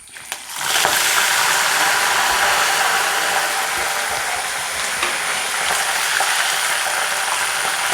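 Curry leaves frying in hot oil for Kerala puliyinji, a loud, steady hiss and crackle that bursts in and sustains for several seconds close up, with no talk.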